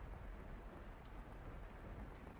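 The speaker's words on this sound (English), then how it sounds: "The sound of the pouring rain drowned out everything else." Pouring rain in The House in Fata Morgana video game, a dense, heavy roar of downpour that stays constant and loud with no break across the short stretch.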